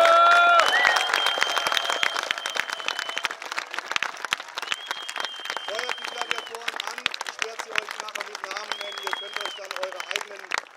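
Audience applause for gladiators at a Roman festival in an arena at Augusta Raurica, a steady crowd clapping that fills the whole stretch, strongest at the start, with someone talking over it.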